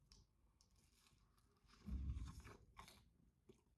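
Crunchy bites into a crispy breaded Italian snack filled with provolone, a close, loud crackling burst in the middle followed by softer chewing, with no talking.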